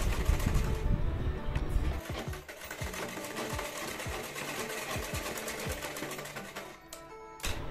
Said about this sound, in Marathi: डबल शिलाई मारून घ्यायची.